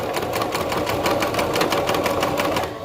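A sewing machine runs continuously while back stitching a romper strap, a fast, even mechanical whir and patter close up, slowing slightly at the end.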